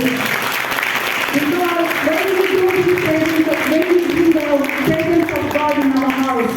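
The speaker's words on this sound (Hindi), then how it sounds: "ताली बजाइए यीशु के लिए" A church congregation at a sermon claps together for Jesus, producing sustained dense applause while voices sing or call out over it throughout.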